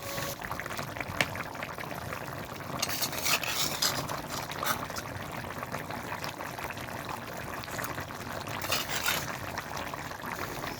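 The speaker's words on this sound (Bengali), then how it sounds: "একটু ভালো করে নাড়াচাড়া করে আগে থেকে ভেজে রাখা ইলিশ মাছগুলো তরকারির মধ্যে দিয়ে দেব।" A hilsa fish curry with ash gourd and elephant yam being stirred in a pot during village-style cooking: soft continuous scraping and sloshing with bubbling liquid, steady and close, no talking.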